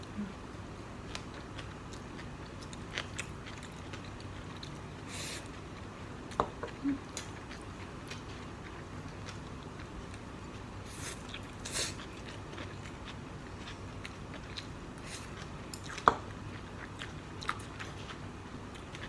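Soft chewing and biting of boiled pork bossam, close and fairly quiet, with occasional small crunchy clicks and a steady low background.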